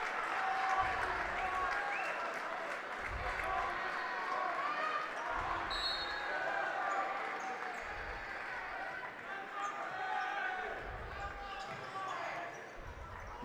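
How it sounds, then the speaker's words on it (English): A high school boys basketball crowd giving a standing ovation during a playoff game, sustained applause and cheering throughout, with basketball bounces thumping at intervals and a voice talking over it. "Crowd recognizes this game as well in hand. Gives the Stars a standing ovation."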